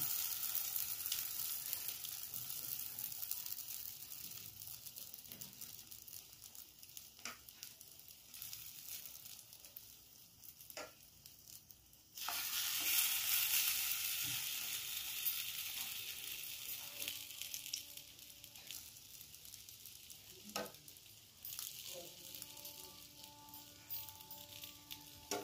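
French toast sizzling in a hot pan, a quiet steady frying hiss with scattered crackles and occasional soft clicks and scrapes of handling, briefly louder midway, no talking.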